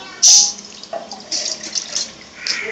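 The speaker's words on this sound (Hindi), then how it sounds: "सबसे पहले हम पैन में पानी डालेंगे।" Water poured into a pan while making apple murabbah, a short bright splash followed by light intermittent trickling and drips, close and fairly clear with no talk.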